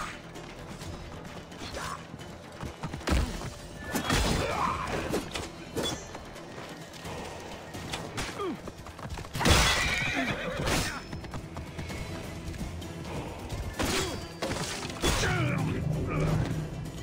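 Horse neighs and whinnies several times in Assassin's Creed Origins, with clip-clopping hooves and faint mechanical creaks between, the calls loud and close and spread across the stretch.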